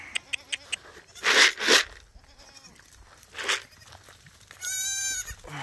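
Goats from a herd bleat while being moved into the woods, several loud wavering calls spaced over a few seconds, close by, with a couple of faint clicks early on.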